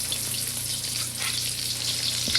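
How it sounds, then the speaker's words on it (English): Crab cakes with red and yellow pepper and coriander being set into hot oil, giving a continuous bright sizzle and crackle close by, fairly soft and steady with no talking. "You can also hear that it's hot as you put the crab cakes in very carefully and gently"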